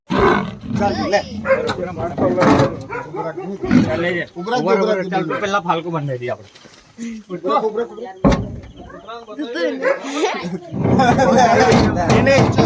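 A leopard caught in a cage trap at midnight in Champavadi village, Vyara taluka, growls and roars in deep rough bursts close by, mixed with people talking and some clanking.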